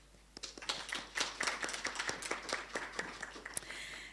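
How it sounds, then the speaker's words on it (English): Scattered applause from an audience at a university hackathon prize-giving ceremony, with individual claps sounding distinct and uneven, building slightly then thinning out over about four seconds at moderate level. "please give yourselves a round of applause."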